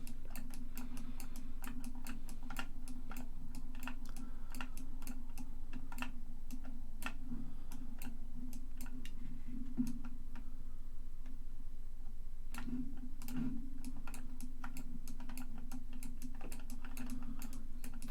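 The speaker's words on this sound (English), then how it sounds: "Sorry for the clicking sounds" Computer mouse clicking steadily while drawing a fantasy world map in Inkarnate, crisp close ticks in irregular rhythm over a low constant hum, with no talk.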